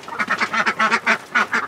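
Chickens, including a mother hen, cluck and chatter close by in a coop, a rapid series of short nasal calls in uneven rhythm, loud and without talk.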